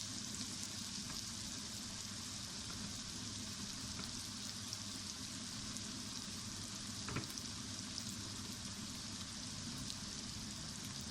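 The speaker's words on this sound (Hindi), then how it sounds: "लहसुन और प्याज हमारे फ्राई हो चुके हैं। अब इसमें टमाटर डालते हैं।" Tomatoes hit a pan of fried garlic and onion, giving a steady, even sizzle and crackle that runs on without pause at moderate volume, with no voices.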